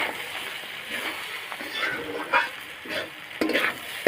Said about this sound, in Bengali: আবার একটু নাড়াই দেব